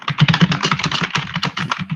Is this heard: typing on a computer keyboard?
yes